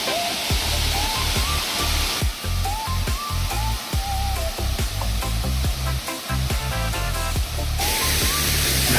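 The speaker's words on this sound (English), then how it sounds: "look at this size of this waterfall" A large waterfall in Brazil roars as a dense, steady rush of falling water, loud and continuous throughout, with music playing over it.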